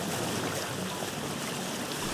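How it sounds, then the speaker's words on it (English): In Vintage Story, a raft glides over open ocean, its motion heard as a brief, steady wash of water and soft trickling that holds an even level with no talking. "Absolutely love the sound of the raft in the ocean."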